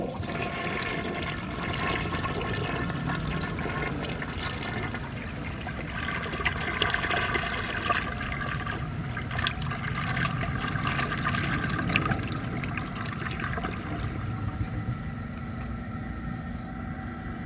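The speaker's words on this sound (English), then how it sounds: "toilet really doesn't seem like it has the kind of flush that would do well on this test" A 1948 Crane Drexel toilet flushing: a steady rushing of water through the bowl goes on for many seconds before it gradually thins into a quieter refill trickle.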